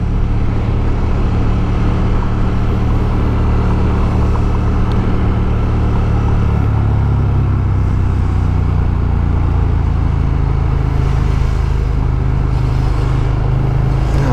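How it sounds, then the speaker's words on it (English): A loud, steady motorcycle engine drone fills the whole stretch as a BMW adventure bike catches up and rides by on a commute. The engine note shifts partway through, with no talk. "BMW adventure bike."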